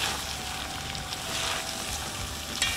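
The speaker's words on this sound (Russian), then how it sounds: "лучочек обжариваем с мясцом" Onion and meat frying together in a pan, a steady broadband sizzle with soft crackles throughout, close and continuous, with no talking.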